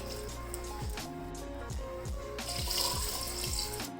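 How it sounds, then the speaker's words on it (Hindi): Water is poured into a cooking pot holding garlic and a large onion for aloo gosht, a close, steady splashing gurgle with bubbling pops throughout. "और इसके साथ ही 2 गिलास मैं पानी के इसमें डाल दूंगी"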